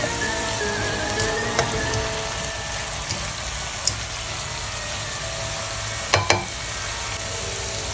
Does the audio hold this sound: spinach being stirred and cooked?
yes